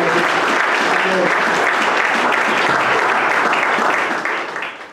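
Sustained applause from a large church congregation welcoming the pastor, steady and loud for several seconds before beginning to fade at the end.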